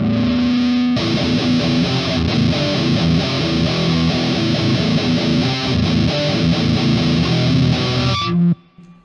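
An electric guitar through a Big Muff fuzz pedal plays thick, heavily saturated chords and notes continuously, loud and close, then cuts off abruptly near the end.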